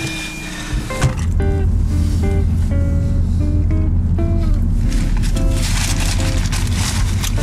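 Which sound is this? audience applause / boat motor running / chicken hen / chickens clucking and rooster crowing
boat motor running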